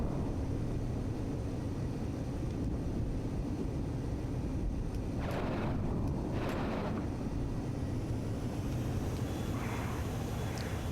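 Su-25 rockets fire in DCS at night: two short whooshing bursts rise midway through a steady, loud jet-engine roar, followed by a fainter rush near the end.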